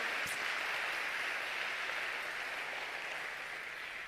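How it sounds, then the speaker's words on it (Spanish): A church congregation applauds during a Spanish-language sermon, a dense, steady wash of clapping that holds evenly for about four seconds without any voices on top. "¿Querés aplaudir?"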